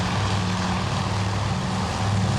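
Torpedo bombers closing in during a carrier combat game, a loud, unbroken propeller engine drone with a low pulsing hum, no other sounds breaking through.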